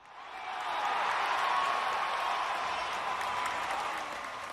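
Stadium crowd reaction in a PC baseball video game, Toronto at Tampa Bay, a swelling wash of applause and cheering that rises, holds steady and slowly fades, loud and without talk over it.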